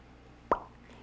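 A single short mouth pop imitating a jar lid sealing, one quick plunk alone against quiet background.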